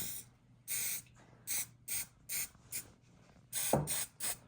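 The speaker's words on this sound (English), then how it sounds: "I'm going to spray them with a little bit of hairspray" Several short hissing bursts of hairspray from an aerosol can, close by, in an irregular rhythm with brief pauses between, two quick pairs near the end.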